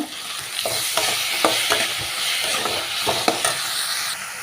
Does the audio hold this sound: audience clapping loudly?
no